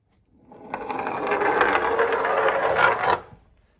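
Cylinders roll down a ramp together after a ruler holding them is lifted, giving a steady rumbling, rattling roll for about two and a half seconds that builds slightly and stops abruptly at the bottom, with no talking.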